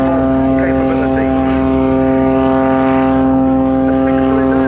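A Muscle Pitts S-2S aerobatic plane with a 6-cylinder, 8.5-litre engine roars at the Cosford Air Show, a loud, steady, harmonic drone that continues throughout while a voice talks over it.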